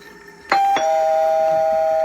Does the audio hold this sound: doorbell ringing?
yes